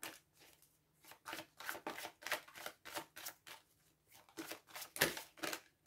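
A deck of cards is cut and shuffled close by, about a dozen crisp riffling bursts in an even rhythm with short pauses between, quiet and alone with no talk.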